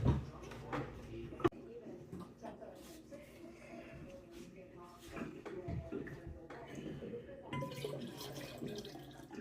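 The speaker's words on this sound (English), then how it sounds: "We're going to go ahead and add some water as well, just to bring up the level" Water pours into a batch of homemade lemon lime wine to top up the level, splashing and trickling under a person talking nearby.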